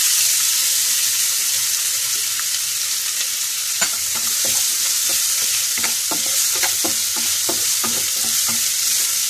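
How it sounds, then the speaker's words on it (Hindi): Chopped onions frying with cumin seeds in a teaspoon of oil in a kadhai make a steady bright sizzle, close by, with crackling pops and stirring clicks partway through and no talk. "गोल्डन ब्राउन होने तक भूनना है ऐसे।"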